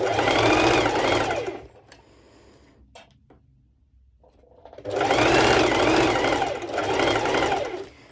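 A sewing machine runs a long straight baste stitch through slippery lycra bikini fabric, in two sustained bursts of rapid, even whirring separated by a quieter pause with a few small clicks.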